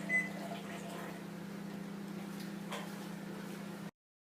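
A microwave oven heats a dish of okra seasoned with chili powder, a steady low electrical hum running nearly four seconds at even volume before cutting off abruptly, with a faint click near the start.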